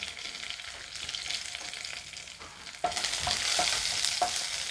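Chopped garlic and a broken dried red chilli frying in oil in a pan for a Kerala thoran, a steady sizzle that grows louder partway through, with occasional spoon knocks and scrapes.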